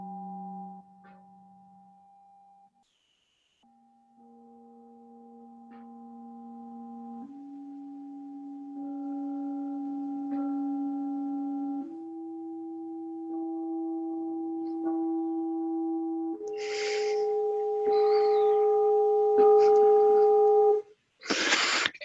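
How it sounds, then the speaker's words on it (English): A sequence of steady loudspeaker test tones stepping up in pitch, growing louder, with added overtones and rough, buzzy intermodulation distortion creeping in toward the end. "That's a typical characteristic of the intermodulation distortion."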